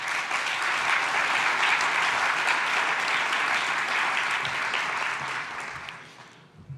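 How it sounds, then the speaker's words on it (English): Sustained applause from a conference audience at an opening ceremony, steady and dense for about six seconds before thinning out and fading at the end. "Give them a round of applause, please."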